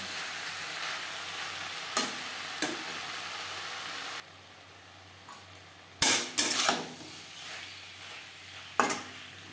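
Flat beans and pumpkin fry and are stirred in a pan over high to medium flame, with continuous sizzling broken by sharp scrapes and knocks of a utensil against the pan, then a quieter stretch before more clatter.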